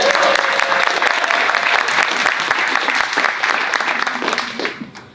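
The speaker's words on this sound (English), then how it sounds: "Can we get a round of applause for that?" Sustained audience applause fills a launch event for Make Us Visible Washington, a dense wash of many hands clapping at once that holds steady and then tapers off near the end.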